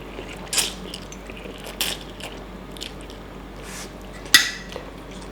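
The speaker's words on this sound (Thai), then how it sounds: "เห็ดเข็มใช่ไหม กรอบดีดีวะ" Someone chews crunchy enoki mushrooms in spicy instant noodles, with a few distinct crisp bites close to the microphone and faint soft clinks between them.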